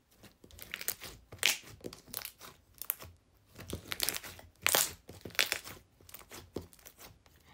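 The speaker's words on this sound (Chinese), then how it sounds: "用来炸泡泡声音也是超级解压" Pink gradient foaming slime, mixed from a kit, being squeezed and stretched, giving irregular bursts of crisp crackling pops and crinkly snaps, loud and close, with short quieter gaps between clusters.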